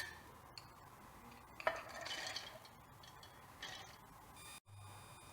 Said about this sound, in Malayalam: ഇതിനിയിപ്പോൾ ഞാനൊന്ന് മിക്സിയുടെ ജാറിലേക്ക് ഇട്ട് കൊടുക്കുകയാണ് കേട്ടോ.